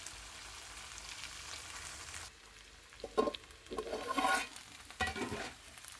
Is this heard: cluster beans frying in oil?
yes